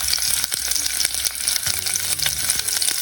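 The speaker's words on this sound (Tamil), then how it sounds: "இப்போ நீங்கள் கட் பண்ணி வச்சுக்கிற ஆனியன்ஸை நீங்கள் சேர்க்க ஆரம்பிச்சிடலாம்" Chopped onions hitting hot oil in a pressure cooker for vegetable biryani, giving a loud, dense, continuous sizzle with bright crackle and a few spatula knocks, close up and steady throughout.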